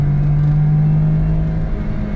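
A Suzuki Every kei van cruises at about 60 km/h, its engine giving a steady droning hum with a faint whine on top, loud and close from inside the cab with no talking.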